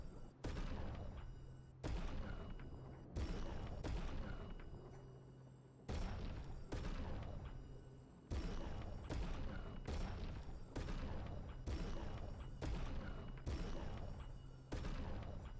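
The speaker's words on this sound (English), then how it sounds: "Every time you buy something, it sounds like a small cannon going off." Purchase sound effect in a video game set in the wrecked Old Lumiere, resembling a small cannon firing: repeated sharp booming blasts about once a second, loud and close, each with a short decaying tail over steady low background music.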